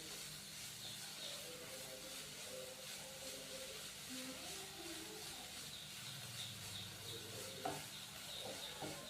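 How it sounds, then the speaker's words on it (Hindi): Chicken pieces with spices and chopped green chillies fry in a pan over a medium-low flame, making a steady, close sizzle and hiss with occasional stirring scrapes. "अभी हम चिकन को मीडियम से लो फ्लेम पे 2 से 3 मिनट के लिए भून लेंगे मसालों के साथ"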